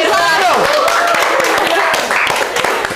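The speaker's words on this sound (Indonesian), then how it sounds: "Tepuk tangan dulu." A seated audience at a mental health talk applauds briefly, with close, dense clapping mixed under a speaking voice.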